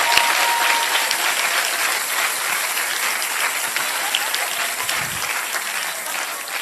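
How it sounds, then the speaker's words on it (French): An audience at a pastor's preaching event applauds with sustained, dense clapping that fills the whole stretch, loud and steady and easing slightly toward the end. "Vous méritez les acclamations."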